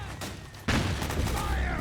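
Gunfire in the video game Metal Gear Solid 4, a loud burst of shots breaking in sharply after a quieter stretch, with battle noise continuing under shouting voices.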